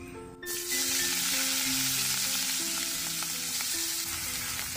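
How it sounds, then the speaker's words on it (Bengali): Chopped onions hit hot soybean oil after prawns were fried in it, starting with a short pause and then breaking into a loud, continuous sizzle and crackle that runs to the end, with no talking. "গরম তেলে দিয়ে দিচ্ছি পেঁয়াজ কুচি।"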